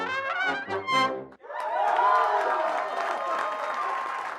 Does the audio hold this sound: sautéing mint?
no